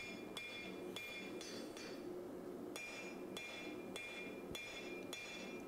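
Hammer blows on a canister Damascus billet of 1080 steel and nickel powder as a knife blade is forged on an anvil: evenly spaced, sharp ringing metallic strikes, about ten in under six seconds, close and loud over a steady background hiss.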